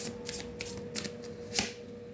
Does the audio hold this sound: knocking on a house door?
no